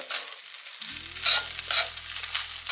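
Chicken thoran is stirred in an iron pan, with repeated close scraping and shuffling strokes over a soft sizzle and a steady low hum from the stove.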